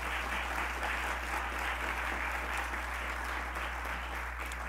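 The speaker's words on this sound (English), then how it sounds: "Let's give her a round of applause as well" Audience applause for Chief Glenna Wallace at a lecture event, a continuous, even wash of clapping from a seated crowd over a low steady electrical hum.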